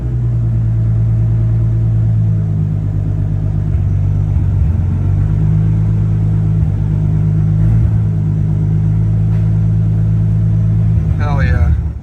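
A Toyota 1.5JZ engine runs steadily on its first start, a loud, close, continuous low rumble with harmonic engine tones holding near idle, a slight dip in pitch midway and a brief rise in revs near the end.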